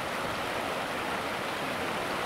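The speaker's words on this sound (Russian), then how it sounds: "Речушка горная." A small mountain river, the Kumyshkan, rushes steadily in a soft, even wash of flowing water that holds constant without breaks, no voices over it.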